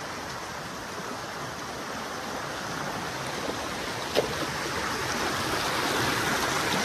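Steady broadband rush of a river flowing nearby, continuous and fairly even throughout, with no voices.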